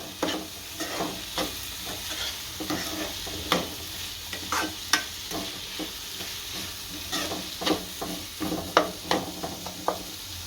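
Green onion curry with coriander-cumin powder and salt is stirred in a sizzling pan, with repeated close scrapes and clacks of a spoon over a continuous low fry.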